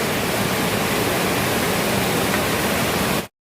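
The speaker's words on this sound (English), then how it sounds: "It's raining, guys." Heavy rain pours steadily in a dense, even hiss with a low rumble beneath, continuous and loud without pauses or voices, then cuts off abruptly at the end.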